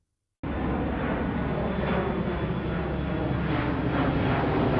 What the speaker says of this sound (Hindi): फ्लाइट टेक ऑफ के लिए रेडी हो जाता है और फिर धीरे धीरे रनवे पर दौड़ता है